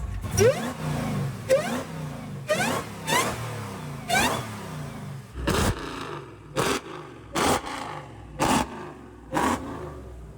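A manual Dodge Demon's engine revs in a run of sharp, loud throttle blips, each rising and falling quickly, closely spaced near the car with no talk.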